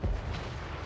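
A cannon in the Total War: Warhammer III battle game fires one loud, deep boom at the start, then a rumbling tail settles into a sustained hum of battle noise.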